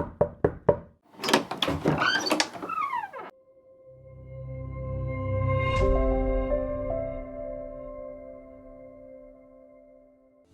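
A quick run of sharp knocks on a door opens the clip, followed by a heavier thud and a long, droning resonant tone that fades away slowly.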